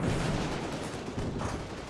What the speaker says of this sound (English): can see machine gun fire starts coming in